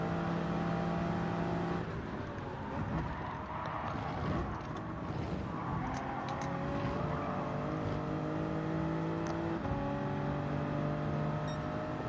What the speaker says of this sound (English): I could just hear the inline straight six engine from the Porsche